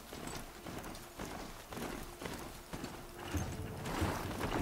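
Steady rhythmic clip-clop of hooves from a mount ridden at a brisk pace in Horizon Zero Dawn, close and moderate in volume over a faint ambient background, with no talking.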